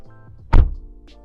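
A car door on an Alfa Romeo Giulia Quadrifoglio shuts with one solid, close thunk and a brief low rumble, followed by a faint click as it settles into the otherwise quiet surroundings.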